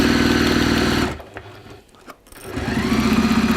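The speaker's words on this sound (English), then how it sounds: "now you just start to sew it all together. Right. So you're going to stitch down one side." Sewing machine stitching down one side of fabric, its motor humming with a fast rapid-fire needle pulse, then briefly pausing before starting up again; close and loud.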